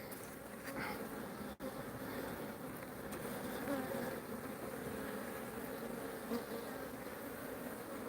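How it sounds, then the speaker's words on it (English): Honey bees buzz in an open hive during a colony inspection, a continuous close, even drone of many wings with a faint thump and a few small handling sounds, and no talk. "You see I've got nurse bees down there starting to collect"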